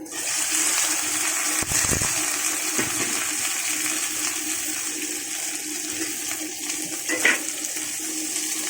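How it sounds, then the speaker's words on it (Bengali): Okra (bhindi) goes into hot oil and fries with a loud, continuous sizzling hiss that stays steady throughout, with a few brief clatters along the way. "এখন দিয়ে দেবো ভেন্ডিগুলো।"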